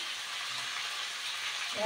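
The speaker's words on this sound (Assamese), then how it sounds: "আৰু এইফালে আমাৰ মাছৰ মূৰ ফ্ৰাই কৰি থকা হৈছে দালিৰ লগত বনাবলৈ" Fish head frying in a pan for a dal dish, giving a steady, close hiss of oil sizzle with no break over a short stretch.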